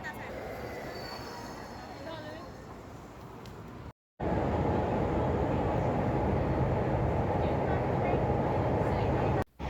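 A train ride in Japan gives a steady, dense rumble that grows louder after a brief cut and continues unbroken to the end.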